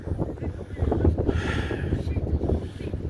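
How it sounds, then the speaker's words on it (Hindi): Cold wind blows outdoors in Mostar, Bosnia and Herzegovina, near the path up to the bridge, a loud continuous gusty rumble buffeting the microphone throughout. "हवा चल रही है।"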